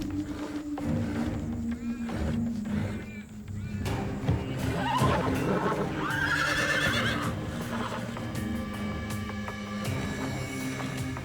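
A horse whinnies and neighs loudly over a low rumbling background, with calls rising and falling in the middle of the stretch among scattered clatter and knocks.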